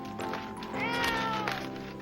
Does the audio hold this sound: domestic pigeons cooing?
no